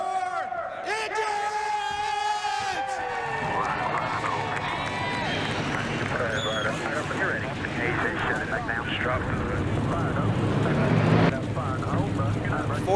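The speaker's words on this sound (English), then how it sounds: "Drivers, start your engines!" A field of 42 NASCAR race car engines fires up in NASCAR Racing 2003 at Rockingham, swelling into a dense, rumbling roar that builds and stays loud. An announcer speaks over the start.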